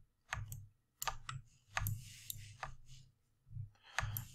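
Computer keyboard keys pressed while setting up an animation scene, a close series of separate clicks in small irregular bursts with short pauses, alone and fairly quiet.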